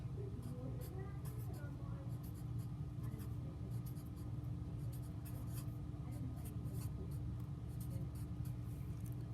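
A pencil scratches and taps faintly on paper in a steady run of small strokes over a low background hum.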